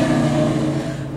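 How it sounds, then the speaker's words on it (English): A motorbike engine revs as it passes close by, giving a steady, loud tonal drone through the short moment. "I think that was a motorbike."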